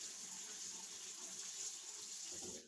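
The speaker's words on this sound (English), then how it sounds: "Let me wash my shorter cucumber." Tap water running steadily into a sink while a short cucumber is rinsed, a continuous close hiss of flowing water with no talking.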